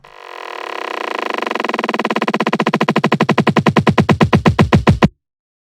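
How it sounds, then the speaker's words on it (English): A sampled song chopped into a repeating kick drum, its hits spacing out and slowing steadily until stopping abruptly, loud and alone. "that it sounds like a kick drum that gets repeated,"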